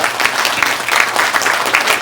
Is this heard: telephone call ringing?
no